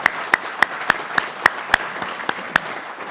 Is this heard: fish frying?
no